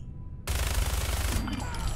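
Loud gunfire erupts in Fallout 4 after a brief quiet start, a dense burst of rapid shots sustained for over a second before tapering into softer, scattered sounds.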